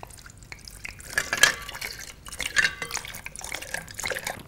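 Clean water poured into a small container holding an ivy sprig for a children's water-pollution experiment, heard as uneven splashes and drips with light clinks, swelling twice and fading between.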